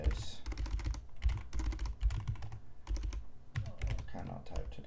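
Fingers tap rapidly on a computer keyboard during a coding session, a dense, uneven clatter of keystrokes with brief pauses, close and clear with no talking over it.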